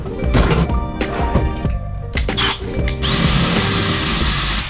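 A power drill enlarges a bolt hole in a part for a lifted squarebody truck, loud and close, with bursts of grinding and clunks followed by a steadier high whine toward the end.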